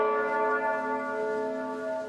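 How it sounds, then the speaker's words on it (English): Church bells toll in Normandy for the murdered priest Father Jacques Hamel, a loud, sustained ringing with rich overlapping tones that holds steady throughout, with no voices. "The bells toll again today for the murdered priest, Father Jacques Hamel."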